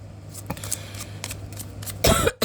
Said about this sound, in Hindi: खांसी बहुत हो रही है